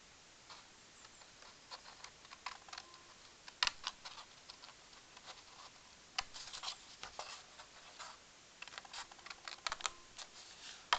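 A blade cuts through a cardboard book box in irregular bursts of scratchy, crackling strokes, close and fairly quiet, with short pauses between cuts and no talking.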